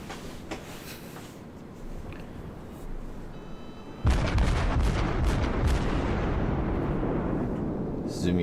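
Cruiser guns fire in a World of Warships naval battle: distant rumbling salvos give way to a sudden loud broadside, followed by a sustained roaring, crackling barrage of repeated shots.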